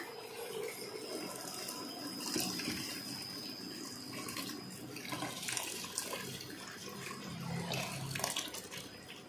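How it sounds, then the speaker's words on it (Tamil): Water pouring steadily into a cooking pot for chicken biryani, a continuous splashing, gushing flow at close range with a faint whistle-like tone running through, no talking. "நாலு ரெண்டு டம்ளர் அரிசிக்கு நாலு டம்ளர் தண்ணி ஊற்றுற பாருங்கள்"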